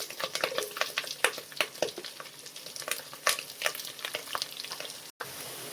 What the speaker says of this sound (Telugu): ఇప్పుడు ఆనియన్స్ అయితే బాగా ఫ్రై అయిపోయినాయండి.